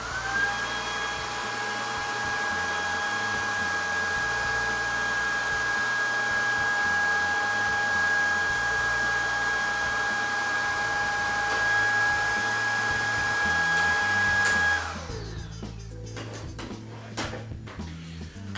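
Shark IZ251UKT cordless vacuum cleaner running in carpet mode, a loud steady whine with a constant high tone for about fifteen seconds, then abruptly switching off and leaving faint handling noises.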